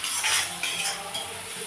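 Onions for an egg gravy sauté in a pan, a close sizzle with soft scraping stirs and occasional light clinks of a utensil against the pan.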